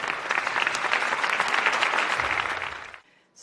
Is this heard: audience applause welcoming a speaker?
yes